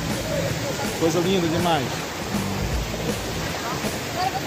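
A steady roar of rushing water from the Cachoeira do Mendanha waterfall in Brazil fills the scene, constant and broad, while a person speaks briefly over it.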